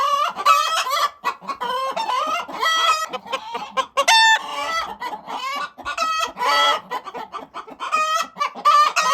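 Chickens cluck and squawk busily up close, a rooster crowing among them, the calls overlapping in a noisy, continuous chorus.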